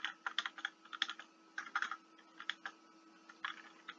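Typing on a computer keyboard, irregular bursts of crisp key clicks in quick clusters with short pauses, close and fairly quiet, over a faint steady hum.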